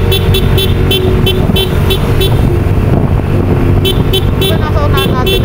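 Vehicle horns honking repeatedly on a road trip in Dipaculao, Aurora, short loud toots in quick bursts over a constant loud engine drone, with later beeps forming a rising tone sequence.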